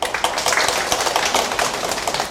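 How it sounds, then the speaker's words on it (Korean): Dense, continuous applause from an audience at a Korean civil service exam information session, loud many-handed clapping that holds steady throughout. "박수 한번 주십시오."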